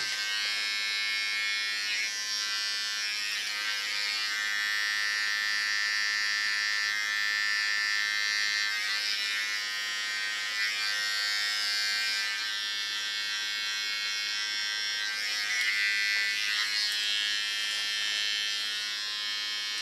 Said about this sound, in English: This I do by laying the clipper flat on his head.